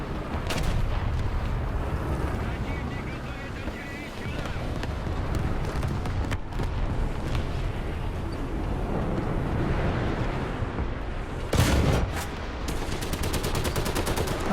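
Artillery shells and gunfire from the War Thunder tank game boom in a dense, continuous battle mix, with a sharp loud blast near the end and a voice talking over it.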